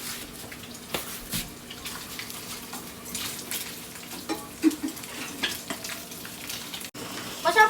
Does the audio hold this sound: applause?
no